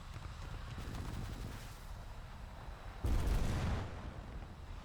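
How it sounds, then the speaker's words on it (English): Rocket strafe from an aircraft in a tank combat game, a steady rumble that breaks at about three seconds into a loud, broad explosive burst, then settles back to a lower roar. "I'm gonna come in for a quick strafe with the rockets"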